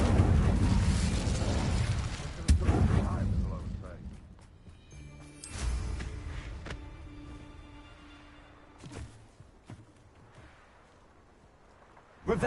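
The Incendio fire spell cast in Hogwarts Legacy: a loud fiery whoosh and burst at the outset, fading into crackling rumble and softer game effects, with a voice present.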